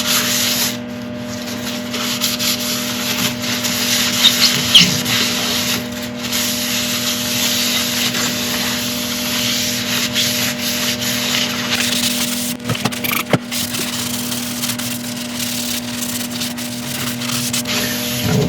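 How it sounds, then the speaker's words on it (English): Isopropyl alcohol rubbed onto a wood burl spinning on a lathe: a steady, close, hissing rub over the constant hum of the machine, with a few brief scuffs and no pauses. "as soon as we put on the isopropyl alcohol"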